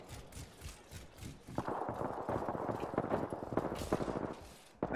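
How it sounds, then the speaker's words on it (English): Rapid full-auto energy-weapon gunfire in the video game Apex Legends rattles in dense, overlapping bursts, growing louder and more continuous partway through, with no talking. "We're surrounded by gunfire, Rudy!"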